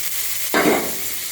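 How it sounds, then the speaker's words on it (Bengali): Neem leaves go into a frying pan of cooked brinjal, giving a short, sudden burst of sizzle and stirring that swells quickly and fades within a second. "এর মধ্যে নিম পাতাটাকে মিশিয়ে দেবো"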